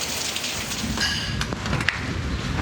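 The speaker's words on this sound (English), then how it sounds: "we finally have not a break in the rain, but it's slowed down quite a bit" Rain drums steadily on the roof of a camper van during a thunderstorm, a dense close patter with scattered sharper drops striking the metal.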